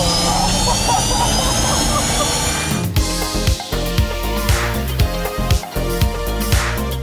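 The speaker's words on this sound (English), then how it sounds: "en este momento estamos encendiendo los motores" Fighter jet engines starting up, a steady loud turbine whine and roar with layered tones, joined midway by rhythmic thumping mechanical pulses and rising pitch, with some voice-like activity mixed in.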